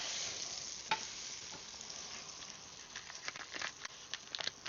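A pancake cooking in a pan at a camping site, a steady soft sizzle with scattered crackles and light scraping taps that grow busier toward the end, no talk.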